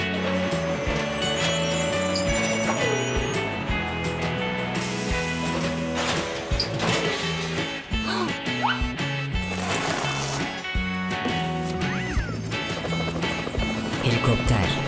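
A helicopter's rotor drones steadily throughout, loud and continuous, layered with tonal mechanical whirring and a busy, clattering texture.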